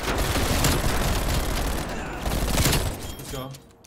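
A MAC-10 submachine gun firing in the video game Black Ops Cold War: a loud, close, continuous stream of rapid shots for about three seconds, then fading out, with brief talking mixed in.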